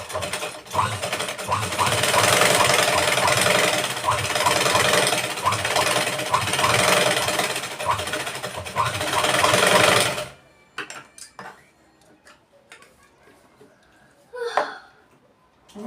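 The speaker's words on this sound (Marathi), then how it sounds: "हा एक्स्ट्रा भागाला आपण इथं शिलाई टाकून घेऊ." An electric sewing machine stitches a prince-cut blouse with a steady, loud, rapid whirring hum for about ten seconds, then stops, leaving a few faint clicks and handling sounds.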